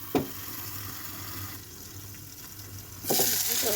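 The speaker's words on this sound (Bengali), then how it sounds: "আমার মাছ ভাজিটা প্রায় হয়ে গেছে। আর একটু ভাজতে হবে" Fish frying in a pan with oil, a steady close sizzle and crackle that swells louder near the end, with a brief clatter near the start and no talking.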